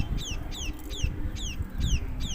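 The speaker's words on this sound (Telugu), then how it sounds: "చూడండి సౌండ్ వినిపించింది కదా. ఈ పిచ్చుకలు చూడండి" Sparrows near their nest give quick, repeated high chirps in a steady rhythm of about six calls, fairly close, with low background rumble underneath.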